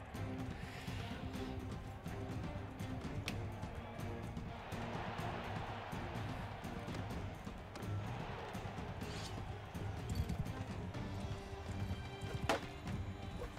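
Horse hooves thud and clatter in Mount & Blade II Bannerlord combat, mixed into a busy game soundscape, with a faint whinny, a few sharper hits and occasional speech.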